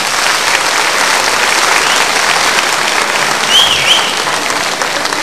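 Sustained, dense applause from a concert audience greeting an orchestra, a loud, even wash of many hands that holds steady for several seconds with a faint whistle partway through.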